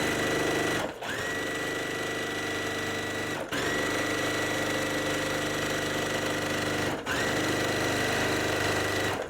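A sewing machine runs steadily, stitching fabric pieces together for a quilt block, its fast mechanical whir continuing nearly unbroken with three brief pauses between seams, close and loud with no talking.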